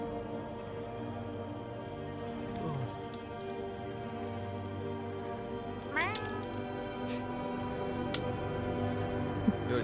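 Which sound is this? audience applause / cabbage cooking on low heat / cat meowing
cat meowing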